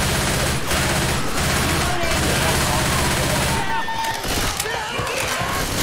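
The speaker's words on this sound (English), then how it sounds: "What the hell do you think you're shooting?" Gunfire in the zombie shooter Left 4 Dead rattles in near-continuous heavy bursts, loud and close, mixed with crashes and shouting voices.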